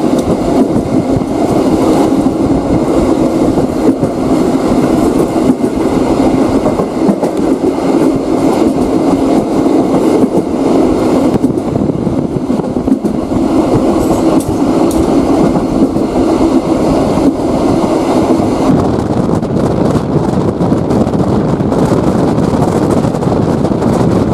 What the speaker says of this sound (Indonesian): kereta api Gumarang telah melintas stasiun Jatinegara